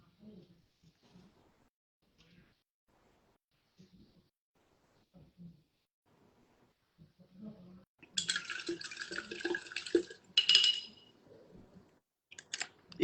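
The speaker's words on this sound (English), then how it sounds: "If you are painting, you want to rinse out your brush after each color." A paintbrush is swished and rinsed in a cup of water for a few seconds while painting, a bright splashy burst that stands out after soft quiet sounds at the start.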